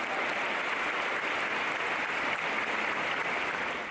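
A congregation at a church Bible study in Medellín, Colombia breaks into sustained applause for a sister, a dense, even clapping that stays loud and constant.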